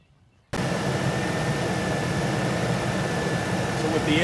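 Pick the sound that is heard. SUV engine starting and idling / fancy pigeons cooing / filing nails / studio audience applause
SUV engine starting and idling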